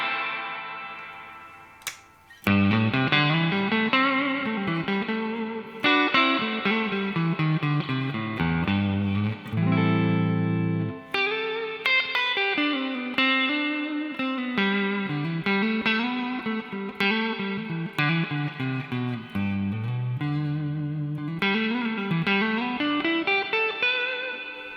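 Electric guitar through a Bogner Goldfinger 45 amp with the reverb turned fully up, played as a steady run of sustained, washy notes and chords with lingering echo tails. The playing is loud and continuous, with no talking.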